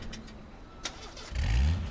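A car engine in the battle royale game H1Z1 turns over after a couple of faint clicks, swelling into a loud low rumble near the end of a short burst.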